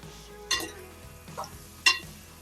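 Washed chicken pieces dropped onto fried onions and chillies in a pan for chicken curry, heard as three sharp sizzling bursts spaced about a second apart over a low, steady frying hiss, close and fairly quiet.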